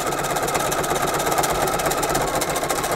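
Sewing machine stitching a fabric bunting flag, a steady close mechanical whir running without pause, with no talking.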